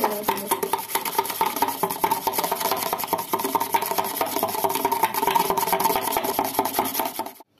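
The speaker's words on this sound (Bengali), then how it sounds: "5 মিনিট ফেটিয়ে নেওয়ার পর এটা কফি, চিনি আর জলের মিশ্রণটা বেড়ে কতটা হয়েছে" Hand-whisking a mixture of instant coffee, sugar and water in a cup, a steady rapid rasping and scraping rhythm that continues without pause, close and fairly loud, with no voices.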